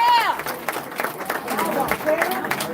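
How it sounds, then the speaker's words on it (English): A crowd in a room applauds a campaign team with brisk, dense clapping. Cheers and babble run through it, and a voice carries over the noise. "So give everybody a round of applause for the campaign team that worked."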